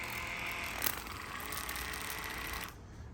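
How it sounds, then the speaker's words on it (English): A Waterpik water flosser sprays in a steady, fairly close hiss with a faint mechanical whir beneath, running continuously before cutting off near the end. "You can see the Waterpik sprays very well."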